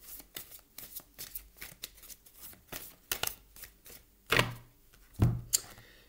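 Oracle cards from a Wings of Wisdom deck being shuffled by hand, with a quick run of soft riffling flicks and slaps that ends in a few louder, sharper card snaps, close up with no talk.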